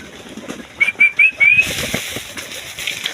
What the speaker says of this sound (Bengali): সো এই যে কবুতরগুলো আইসা দাঁড়ায় রয়েছে ধান খাওয়ার জন্য।